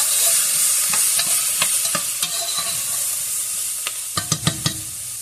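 Meat and onions sizzling in a pot for green bean soup, a steady frying hiss under a run of spoon scrapes and clacks against the pot that grow louder and quicker toward the end.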